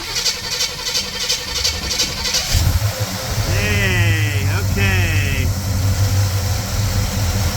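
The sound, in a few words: 1968 Chevelle car engine starting and idling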